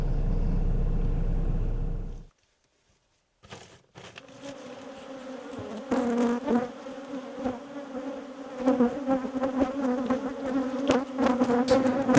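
Honey bees swarming around a hive: after a loud low rumble cuts to near silence, a steady insect drone builds and thickens, growing louder and denser toward the end.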